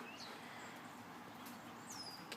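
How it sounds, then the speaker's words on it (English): Birds chirping in a grassy yard in Georgia, a few faint, thin calls scattered over quiet outdoor background. "can hear the birds chirping."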